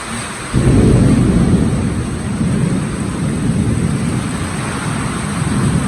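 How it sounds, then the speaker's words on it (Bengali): Heavy rain falls on a cattle farm after a long hot spell, a loud, dense steady hiss that surges in suddenly and is joined by a low rumble of thunder. "ভালোই বৃষ্টি হতেছে।"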